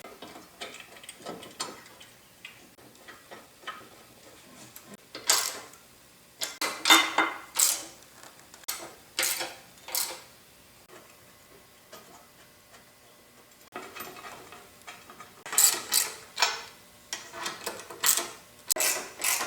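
Cross braces being bolted onto the frames of a Yates American J180 woodworking machine during restoration: bursts of ratcheting clicks from a wrench in quick rhythmic runs, with pauses and faint metal handling between, close with no talk.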